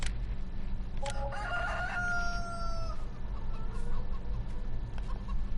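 Rooster crowing in the farm video game Farming Simulator on a Bjornholm map, one long drawn-out call near the start over a steady low ambient hum, with a fainter second crow trailing afterward.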